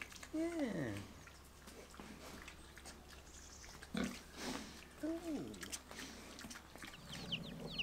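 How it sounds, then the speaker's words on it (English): Pigs in a livestock yard at a farm attraction in Jersey give low grunts and squeals at a moderate distance, with faint chicken and bird calls in the background and some nearby voices. "Pigs."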